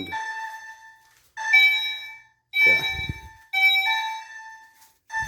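An activated fire alarm sounds during a system test, sending out loud, ringing chime-like tones that repeat about every second, each decaying before the next, with a brief rustle under one of them.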